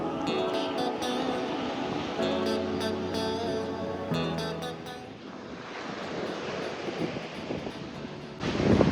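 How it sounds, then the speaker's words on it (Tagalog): Strong ocean waves surge at Puka Beach on Boracay, a steady broadband rush of surf with wind noise, swelling louder near the end; some tonal background sound runs through the first half. "lakas ng alon"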